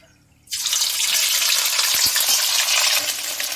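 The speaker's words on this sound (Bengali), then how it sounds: "আদা লঙ্কাটা ভাজা হয়ে গেছে" Loud, steady frying sizzle of ginger and green chili paste starts abruptly after a brief quiet moment and continues throughout, with a couple of soft stirring knocks.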